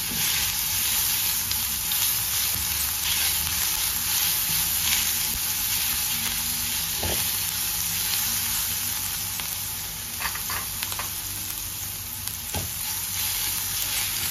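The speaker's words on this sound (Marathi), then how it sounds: "आता त्याच्यामध्ये पहिल्यांदा आलं लसूण मिरचीची पेस्ट टाकायची, ती परतवायची" Ginger-garlic-chili paste sautéing in hot oil for an eggplant bharta kabab, a steady dense sizzle throughout with occasional stirring scrapes, close and fairly loud.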